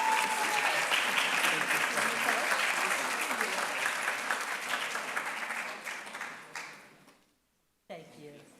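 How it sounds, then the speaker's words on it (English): Audience applause at a convocation and awards ceremony for outstanding research students, a loud sustained wash of clapping that gradually tapers, breaks off into silence, then a voice resumes. "A round of applause for all of our outstanding research students."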